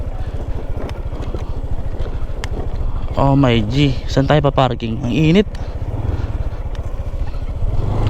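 A motorcycle idles steadily at a parking area at an outdoor nature spot, its low rhythmic putter running under wind noise, with a person speaking over it midway.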